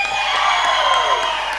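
A large crowd at the Mangaluru Police Habba 2022 public event cheers and whoops in a loud, sustained roar of overlapping voices that lasts only a moment.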